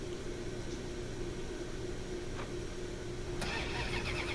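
A 1991 RedCharger pickup truck in the SnowRunner video game with its engine running, a steady mid-pitched rumble and hum that stays constant throughout, broken only by a couple of brief clicks.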